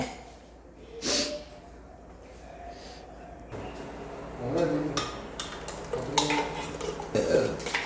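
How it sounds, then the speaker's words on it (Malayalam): Ground coconut mix being tipped from a mixer jar into a pot of curry on an Easter cooking day: scraping clinks of jar against pot and soft wet plops in several uneven bursts, with brief talk. "ജാറ് കഴുകിയിട്ട് കുറച്ച് വെള്ളത്തോടെ ഒഴിച്ച് കൊടുക്കുക"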